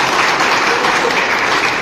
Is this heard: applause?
yes